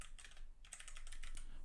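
Quick keystrokes on a computer keyboard tap out a short message in a close, quiet room, with light clicks in a brisk, uneven rhythm.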